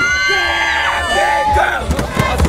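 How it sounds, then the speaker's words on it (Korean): A festive crowd gathered in Gwanghwamun Square to support the South Korean national team cheers and shouts in a short, loud burst, with voices whooping close by amid the general roar. "승리의 함성이 울려 퍼질 광화문 광장"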